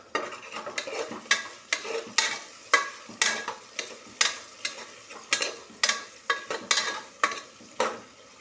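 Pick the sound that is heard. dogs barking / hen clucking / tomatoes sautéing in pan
tomatoes sautéing in pan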